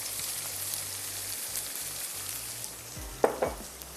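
Cumin and green chilies fry in hot oil in a pan as the base of a fish gravy, giving a steady hiss and sizzle close by, with a few sharper knocks of a utensil near the end.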